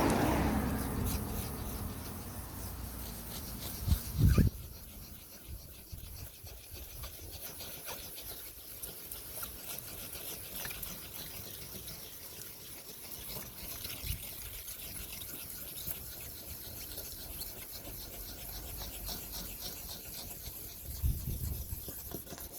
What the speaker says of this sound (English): use a very fine grit wet sanding paper, P1500 or P2000